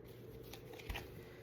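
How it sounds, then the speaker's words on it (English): Oracle card deck shuffled by hand, a soft close riffle of cards with a brief thump partway through, quiet and alone with no talk. "So I'm going to get a few shuffles of my oracle deck just to see the theme of this reading"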